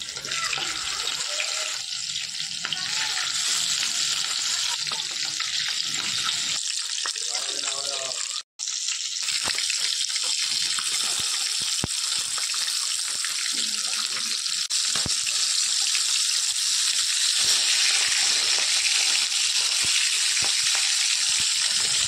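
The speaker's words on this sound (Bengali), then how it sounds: "তেল গরম হয়ে গেলে এক এক করে সব মাছগুলো আমি ভেজে নেব।" Tengra fish frying in hot mustard oil for a fish curry with potato and aubergine, a loud, steady, dense sizzle that runs almost without pause and drops out only for a brief moment midway.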